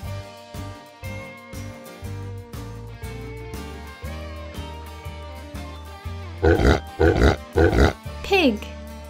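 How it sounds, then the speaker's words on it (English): A pig grunts and oinks in a quick run of loud, close snorts near the end, following steady backing music in a children's animal-sound guessing game. "Pig."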